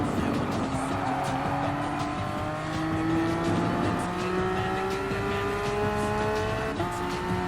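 A Porsche 911 Cup race car in Gran Turismo Sport at Dragon Trail Seaside drones at high revs, pitch gradually falling as it brakes into the last corner, with faint tire squeal and a person talking over it.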